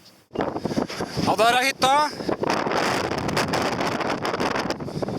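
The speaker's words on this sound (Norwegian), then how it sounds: "Det blåser friskt." Strong wind buffets the microphone on the open Hardangervidda mountain plateau, a loud continuous rushing roar with gusts, while a person speaks briefly near the start.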